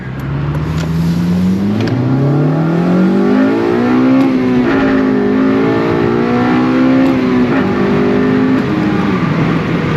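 Honda Civic Si, 8th generation, with a K&N drop-in filter, revving hard through first gear; loud, close engine note climbs steadily in pitch with brief dips, continuous for the whole stretch.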